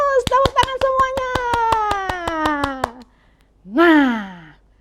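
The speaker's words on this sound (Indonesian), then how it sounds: "Tepuk tangan semuanya" Children clap hands in a fast steady run of about a dozen claps while a voice holds a long sung note, then the clapping stops and a brief vocal sound follows.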